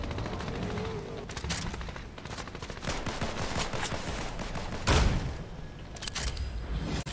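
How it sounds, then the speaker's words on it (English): Pistol shots in a video game fire in rapid clusters of sharp cracks with short pauses between them, and a louder, heavier blast near the end. The shooting is fairly close and set against a busy game background. "Now that's how you use a pistol."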